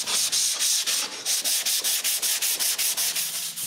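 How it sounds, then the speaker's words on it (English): Small mahogany and maple boxes are sanded by hand, a close, rhythmic scratching of even back-and-forth strokes, about four per second, with nothing else heard. "Then I finish the rest of the sanding by hand."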